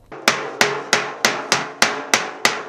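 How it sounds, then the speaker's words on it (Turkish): Coppersmiths in the historic Maraş bazaar hammer copper, producing eight sharp, evenly spaced metallic blows at a steady rhythm, close and fairly loud, with no voices. "Tarihi çarşıdan yükselen çekiç sesleri"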